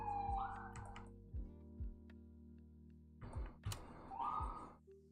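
Faint police siren whoops rise twice in the distance, separated by a few soft low thumps and light clicks.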